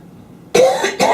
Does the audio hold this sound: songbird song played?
no